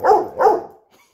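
A dog gives two loud, close barks in quick succession, followed by a faint short whimper as the sound fades out.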